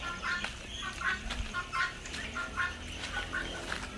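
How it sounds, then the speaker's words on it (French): Blue Holland breeder chickens and local hens cluck and call in a busy farm pen under construction, with repeated short clucks and squawks close by over a steady background murmur. "mes reproducteurs de bleu d'Hollande et des poules locales là que j'ai commencé"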